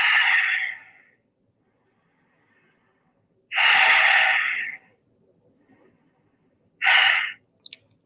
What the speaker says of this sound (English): Breathing in, come out of it and relax.